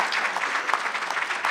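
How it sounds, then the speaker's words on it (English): Round of applause for Ms. Zopp at a public meeting on Chicago neighborhood and charter schools: a brisk, even burst of many hands clapping together, fairly close and continuous throughout. "Round of applause for Ms."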